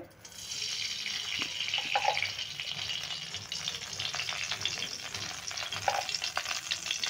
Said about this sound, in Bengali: ঘি দিয়ে দিচ্ছি কড়াইতে